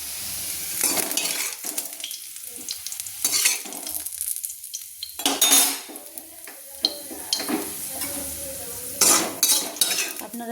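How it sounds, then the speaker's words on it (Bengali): Fried onion and garlic are spooned out of a kadai into a tin for steaming fish: repeated metal scrapes and clinks of a spoon against the pans, with a soft sizzle underneath, close and busy throughout. "সেই আমি কৌটোতে আমি পেঁয়াজ রসুন ভাজা তুলে দিলাম"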